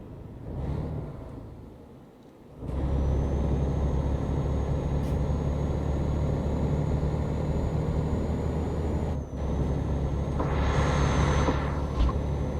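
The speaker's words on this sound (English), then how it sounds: "Now, that wind noise seems like it's louder to me." In the TruckersMP game, wind roars through an open truck window as a steady, loud broadband rush over a low engine hum, starting abruptly after a quieter stretch and continuing with a brief dip.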